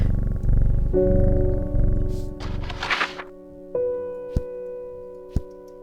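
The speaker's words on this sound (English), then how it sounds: "Pet the cat to get us started today." A cat purrs when petted in the video game Strange Horticulture. A steady low rumble plays for about three seconds, with game tones and a few soft thuds after it.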